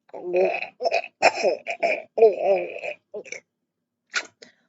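A person imitates gagging with their voice, making a string of short choking, retching bursts separated by brief pauses. The bursts are fairly close and fade to a couple of faint final catches.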